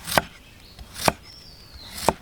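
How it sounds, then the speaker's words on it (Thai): A knife slices crisply through firm wild fruit, three sharp evenly spaced cuts close up with quiet pauses between them. "ฟังเสียงซอยอ่ะกรอบดีมากนะ กรอบกรอบอยู่"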